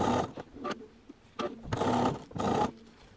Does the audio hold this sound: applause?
no